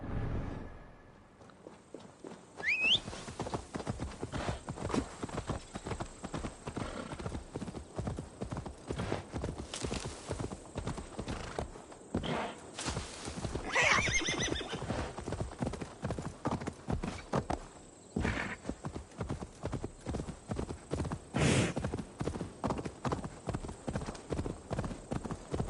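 A horse in the video game Assassin's Creed Valhalla clip-clops steadily at a fast pace for a long stretch, with an occasional whinny and no talking.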